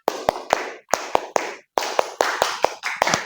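Children do the Indonesian scout clap (tepuk pramuka), a patterned rhythm of sharp hand claps in short grouped bursts with brief pauses between, close and lively.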